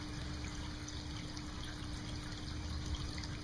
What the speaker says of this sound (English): has a nice hidden source where the waterfall comes out into a little pond and comes zigzagging back into a nice cascade